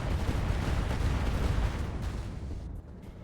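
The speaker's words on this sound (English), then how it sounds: "Mortars on the Assassin." Mortar fire in the video game RogueTech, a dense rolling burst of heavy booming impacts that fades out after a few seconds.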